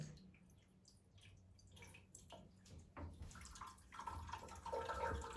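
Water running and dripping as a bathroom sink drains through its overflow during renovation testing, starting as faint trickles and drips, then swelling into a louder, steady gurgling flow over the last couple of seconds.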